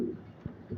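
A breeder racing pigeon, a Janssen Arendonk line, gives soft low coos in a couple of brief pulses close by.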